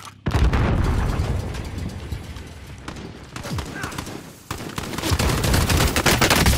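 Heavy, sustained gunfire rattles through a video game firefight, loud, rapid shots and bursts filling the whole stretch with only a short lull, while players talk over the noise.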